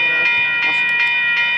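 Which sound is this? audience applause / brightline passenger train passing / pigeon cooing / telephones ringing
brightline passenger train passing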